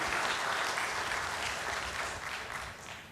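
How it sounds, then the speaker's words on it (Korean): A church congregation claps steadily for a few seconds, a dense wash of applause that fades slightly at the close. "박수 주세요."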